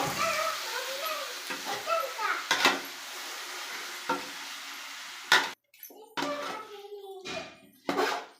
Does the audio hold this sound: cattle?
no